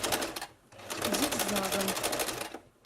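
A home sewing machine runs a short zigzag stitch across a kitchen potholder, a steady close mechanical whir with fast regular clatter that stops briefly, then resumes, while someone talks over it.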